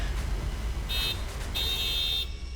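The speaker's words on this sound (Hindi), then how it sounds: "मैम की गाड़ी का हॉर्न सुनाई दिया" Two brief electronic horn-like beeps sound over a steady, loud background rumble, the second held longer than the first.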